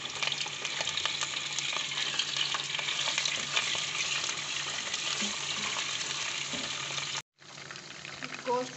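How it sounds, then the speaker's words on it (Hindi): Mutton pieces sizzle and fry steadily in a pot while being stirred, a loud continuous crackle with scraping movements throughout, briefly cutting out near the end before resuming. "हम इसमें गोश्त डालेंगे और इसको फ्राई करेंगे।"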